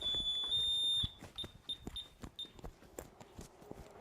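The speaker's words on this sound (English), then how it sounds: "It's probably somebody that set the alarm, not realizing that we're here." A garage alarm gives a high, piercing beep, steady at first and then chirping in short repeated bursts while faint thumps and clatter continue underneath.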